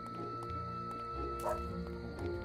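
A video game dog named Tubby, a pet inside a mansion, gives a few short synthesized bow-wow barks and yips over steady game music, with no talking.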